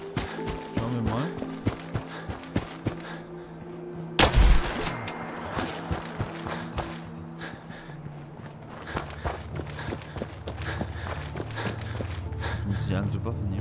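Gunfire in the video game Fallout 4, with one loud sharp shot standing out midway among rapid clicking and clattering game sounds, while people talk throughout.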